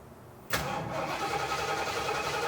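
A barn-find Jeep Wagoneer engine cranks and catches abruptly, then settles into a loud, steady rough idle close by.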